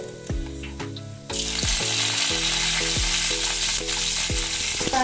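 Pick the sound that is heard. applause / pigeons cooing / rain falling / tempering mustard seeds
tempering mustard seeds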